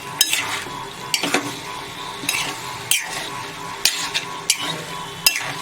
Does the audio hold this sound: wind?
no